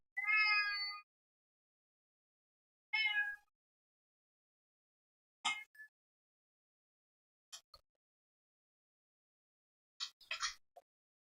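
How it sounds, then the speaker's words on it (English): A cat meows several times, two clear drawn-out meows followed by shorter chirpy calls, close and alone with silence between. "He's meowing at me."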